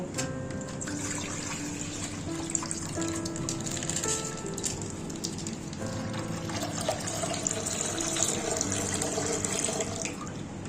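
Milk, 1.5 litres, being poured into a kadai for rasgulla, a steady liquid splash and gurgle running close and continuously throughout, with no talk.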